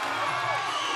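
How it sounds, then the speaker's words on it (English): A crowd cheers and roars at a local 61kg lightweight kickboxing championship bout, a loud continuous swell of voices in a brief burst. "You can hear the crowd."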